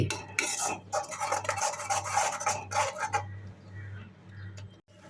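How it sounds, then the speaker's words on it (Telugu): Dal makhani frying with oil in a pan, a spoon scraping and stirring in quick uneven bursts over a low steady sizzle, close up, with the scraping stopping partway through. "మాడిపోకుండా మధ్య మధ్యలో కలుపుతూ బాగా వేయించుకోవాలి ఆయిల్ సైడ్కి వచ్చేంత వరకు వేయించుకోవాలి"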